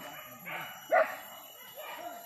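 Hunting dogs bark sharply once or twice in the middle, fairly close, during a morning hunt in West Sumatra, over faint background voices and low murmur.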